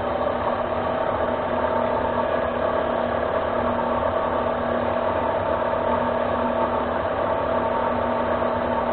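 A metal lathe spinning a mandrel at about 500 RPM as a carbide tool takes light cuts, giving a steady mechanical hum with a faint rhythmic ticking, continuous and close, without talk.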